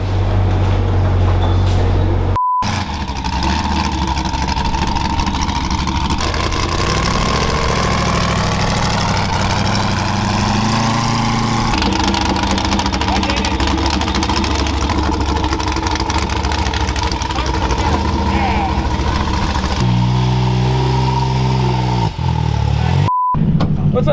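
A generator engine drones loud and close, holding a steady mid-pitched running note with slight shifts in tone and a rougher patch near the end.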